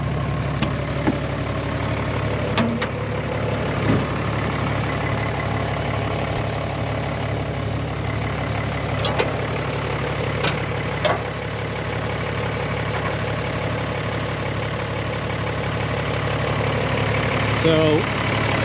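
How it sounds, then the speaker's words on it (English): A Toyota 60 Series Land Cruiser's inline-six turbo diesel idles with a steady, low, even rumble, heard near the open hood, with a few faint clicks and knocks over it and no talking. "a little bit about this motor, since us Americans don't really get to see these diesels too often. Yeah, inline 6 turbo"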